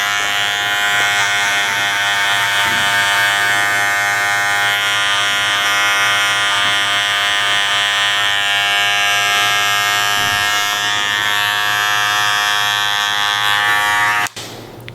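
An electric hair clipper buzzes steadily and loudly up close during a V-shaped low-to-high fade haircut, a continuous whine that cuts off just before the end.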